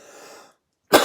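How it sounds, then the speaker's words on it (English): A single sharp, loud cough from a person with a tickly throat, bursting out abruptly after a stretch of silence, preceded by a faint fading background sound. "I've got this tiggly little cough going on"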